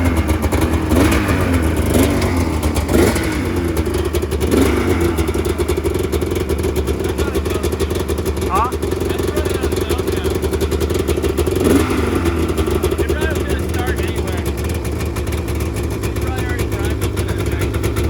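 A Polaris snowmobile engine idles and revs steadily for the whole stretch, a loud continuous mechanical drone with small surges in pitch, while people talk over it.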